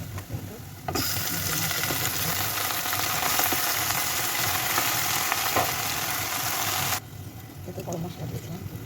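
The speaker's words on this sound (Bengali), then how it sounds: "পেঁয়াজ ভাজা হয়ে গেল" Onions frying in hot oil in a pan for a chicken curry, a loud continuous sizzle that begins abruptly and cuts off after about six seconds, with softer kitchen sounds before and after.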